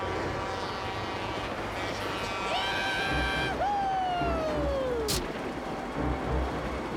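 A cartoon train rolls along with a rumbling chug beneath a bright descending whistle-like tone and gliding pitch sweeps, the clatter steady and moderately loud throughout.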